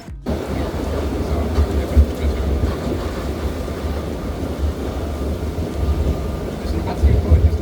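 A steady rumbling roar of the Sóller tram in Mallorca rolling along rails, with occasional low thumps and rattles throughout.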